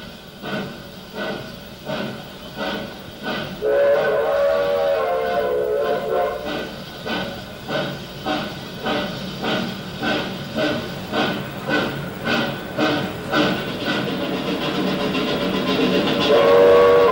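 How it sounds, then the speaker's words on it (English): A model railroad runs steadily nearby, its small train producing a regular clickety rhythm of wheels over track joints, with a sustained whistle-like tone sounding twice and no voices. "Every week during December, interested people can see Dr. Travis's railroad during special performances."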